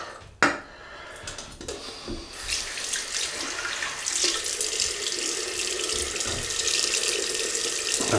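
A Merkur 1904 double-edge safety razor rinsed under a running tap, a sharp knock at the start, then a steady close gush of water into the sink that grows fuller and louder.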